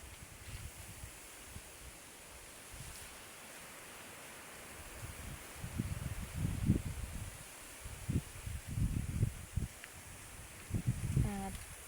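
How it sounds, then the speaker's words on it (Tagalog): Steady wind roars and rustles through leaves, buffeting the microphone in rumbling gusts that grow stronger partway through. "malakas pa rin ang hangin dito"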